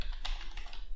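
Quick, light tapping on a computer keyboard, a short burst of soft key clicks close by.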